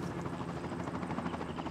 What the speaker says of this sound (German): Da ist ja irgendwo ein Hubschrauber unterwegs.